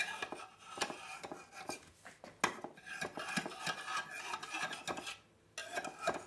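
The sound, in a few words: knife scraping around the edge of an egg muffin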